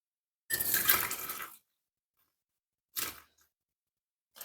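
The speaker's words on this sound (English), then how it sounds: "then we're going to pour our tea in" Tea pours from a teapot for about a second, then two shorter pours follow after pauses, close and clear in an otherwise silent setting.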